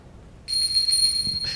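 The highest bell of a handbell set rings out with a high, bright, sustained shimmering tone, struck once and left to ring clearly for about a second.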